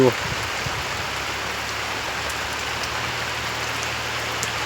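A full downpour drums over a village in a thick, continuous roar. A brief voice sounds at the very start, and after that the rain carries on alone at a steady level.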